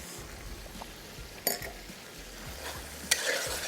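Green chillies, coriander and lemon juice are roasted in a kadai, a soft steady sizzle with stirring scrapes and two sharper clinks of the utensil against the pan, close but quiet and without speech.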